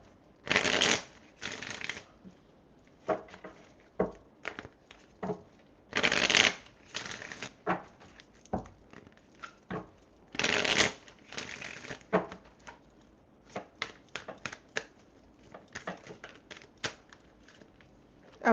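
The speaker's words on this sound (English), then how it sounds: "Let me make sure I shuffle these cards really well." Repeated bursts of riffle-shuffling tarot cards, crisp and close, with sharp flutters separated by short pauses and lighter tapping and bridging sounds between.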